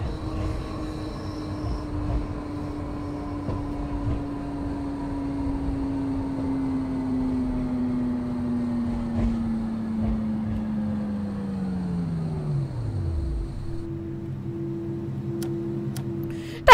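Another underground train passing in Train Simulator: a steady rumbling roll with a long tone sliding downward as it moves off, followed by a lower hum.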